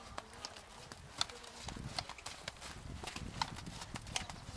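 Hooves of a horse trotting in an arena during a dressage lesson at a riding club, a steady, fairly close clip-clop rhythm running throughout over a soft background hiss.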